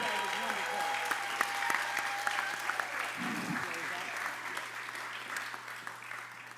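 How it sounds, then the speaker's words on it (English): An audience at a college event applauds for Poet and Brian, a sustained crowd of clapping at moderate distance, with a voice briefly speaking under it. "Can we give Poet and Brian another round of applause?"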